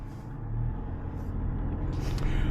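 A 2024 Jeep Wrangler 4xe High Altitude drives along, heard from inside the cabin as a steady low road rumble with a faint rise in noise toward the end and no talking.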